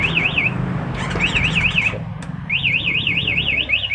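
A one-way aftermarket alarm on a Kawasaki Ninja 250FI motorcycle sounds a loud, close warbling siren in repeated rising-and-falling bursts, with a short break before it resumes over a low background hum.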